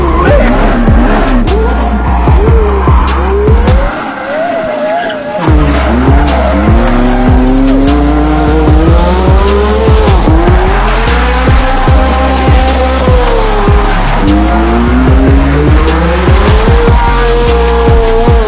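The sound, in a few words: historic race cars accelerating with tire squeal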